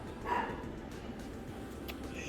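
A dog barks faintly in the background, one short bark near the start, then only a low, steady room ambience.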